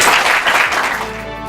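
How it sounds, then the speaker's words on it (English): Audience applause from a crowd at a young innovators' presentation, a brief loud burst of clapping that fades quickly into quiet. "Give them a round of applause."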